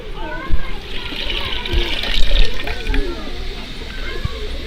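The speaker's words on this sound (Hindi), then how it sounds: "और तकरीबन 2 कप पानी शामिल कर देंगे।" Water poured into a cooking pot holding washed lentils for a village-style qeema daal, a loud continuous splashing and gurgling fill close by, with a voice and children audible in the background.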